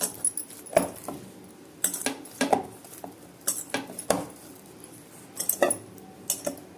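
Maida dough being kneaded by hand for masala poori, heard as irregular wet slaps and squelching presses in quick bursts, close and fairly loud with short pauses, no talking.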